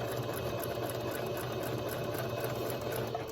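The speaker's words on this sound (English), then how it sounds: "We're just going to sew a straight stitch to the corner." A sewing machine runs a straight stitch along a cloth mask toward the corner, making a fast, steady mechanical chatter with a constant rhythm. It is close and continuous for the whole stretch, with no voices.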